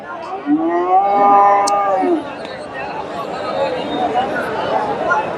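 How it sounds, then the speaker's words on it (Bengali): A Friesian cow gives a long, loud moo up close at a cattle market, followed by distant crowd chatter and a few voices in the background. "একটা চমৎকার একটা গরু দেখতেছি ফ্রিজিয়ান জাতের"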